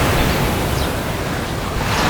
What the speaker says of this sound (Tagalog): Hindi malakas ang alon.